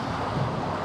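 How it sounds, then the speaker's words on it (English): Strong wind of about 16 to 20 knots, gusting, buffets a Beneteau First 27 SE sailing yacht running fast downwind, a loud, dense, unbroken roar with a hint of water rushing beneath. "It's about 20 knots of wind, 16 gusting up to 20"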